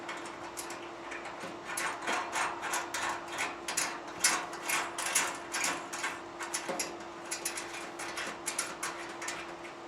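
A large brass nut turned by hand onto a threaded stud of a Stack-On Allegiance series gun cabinet, giving a quick run of soft metallic ticks and clicks, faint and close.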